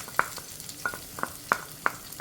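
Chopped small shallots land in hot oil with fenugreek in a pan for a Kerala pearl spot coconut milk curry, giving a quiet background sizzle broken by sharp, irregular clinks and scrapes from stirring, with no one speaking.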